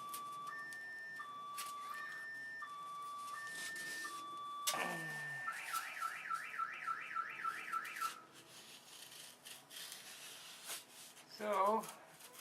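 A car alarm cycles through its siren patterns: stepped two-tone chirps, then a rapid warbling whoop, followed by quieter scraping and a brief rough burst near the end, with no voices over it.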